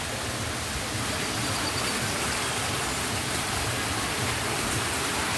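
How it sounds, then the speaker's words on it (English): Waterfalls roaring as a steady, dense wash of rushing water, loud and unbroken throughout with no other sounds standing out. "Oh, that's the waterfalls."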